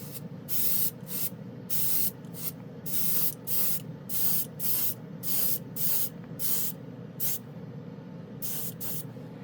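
Short bursts from an airbrush spraying alcohol ink onto a plastic spoon, about a dozen crisp hissing puffs of varying length in an irregular rhythm, close and fairly quiet over a low background hum.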